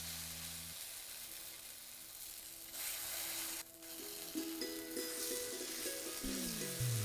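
Ground flat bean paste hits hot oil with black cumin, giving a steady hiss that grows louder as it cooks, over a faint tonal hum in the background.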